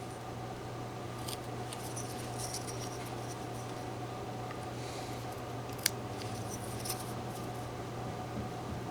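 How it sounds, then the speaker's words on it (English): A knife whittles a small V cut into wood, giving soft, quiet scraping and shaving strokes over a low steady hum, with one sharp little click partway through. "We want to take our knife. We'll just make a little V cut in there"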